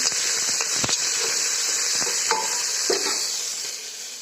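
Chopped onion and curry leaves dropped into hot oil with dried red chilli, a loud continuous close sizzle and hiss with soft stirring scrapes and taps of a spoon, slowly easing toward the end.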